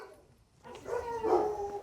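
A single dog gives a short bark-like yelp with a whimpering edge, moderately close, after a brief quiet pause, on a farm among several dogs and puppies.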